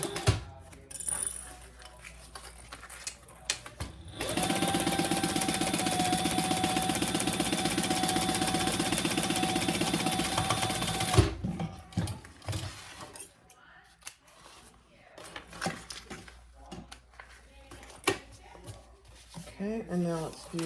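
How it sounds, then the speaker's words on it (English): A sewing machine bastes two fabric pieces together for a hot pink waist pack, running in one steady mechanical burst of about six seconds, close and fairly loud, with quieter handling and talk before and after. "just basting those 2 pieces together"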